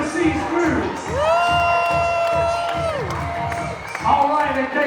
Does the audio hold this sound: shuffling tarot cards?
no